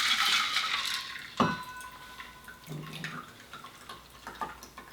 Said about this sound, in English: let's get this one poured in.